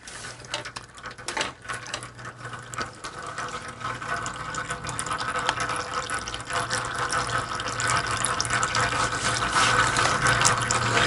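Fork oil from a Harley-Davidson Dyna front fork drains in a steady trickling, splashing stream during fork seal service, constant throughout and gradually getting slightly louder, with no talking.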